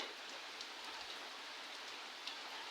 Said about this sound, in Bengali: গতকাল রাত থেকে বৃষ্টি শুরু হয়েছে